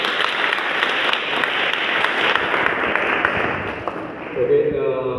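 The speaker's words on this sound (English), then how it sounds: "Give a big round of applause for Principal Sir." An audience at a school inter-class debate competition applauds the principal, a dense wash of many hands clapping steadily, fading near the end as a voice comes in.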